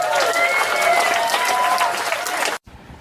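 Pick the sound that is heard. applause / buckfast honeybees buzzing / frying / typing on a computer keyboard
applause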